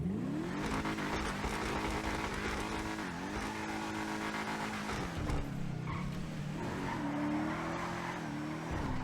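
A loud Albany V-STR sports car engine in GTA Online roars and revs continuously, pitch rising and dropping with gear changes, with tire squeal mixed in.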